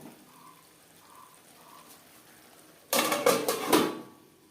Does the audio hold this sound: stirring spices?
yes